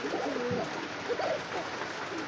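An Arabian pigeon coos nearby, soft throaty calls repeated in a slow rhythm against a quiet background hiss.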